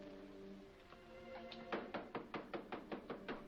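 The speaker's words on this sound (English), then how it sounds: "Who knocks at the temple door in the proper manner?" Someone knocks on a temple door in a run of about ten firm, evenly spaced raps, close and clear, after a quiet start.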